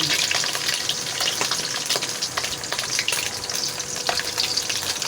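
Tinapa, smoked fish, frying in a pan with a steady dense sizzle and crackle throughout, close and fairly loud, with occasional sharper pops and no talking.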